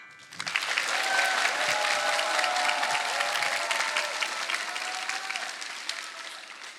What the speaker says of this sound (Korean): 자, 여러분 힘찬 박수로 강연 청해 보겠습니다.